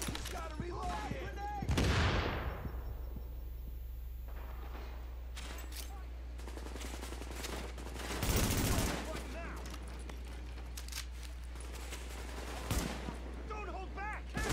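Gunfire in The Division video game, with scattered shots and a few loud booming bursts over a constant low hum, accompanied by shouting voices throughout.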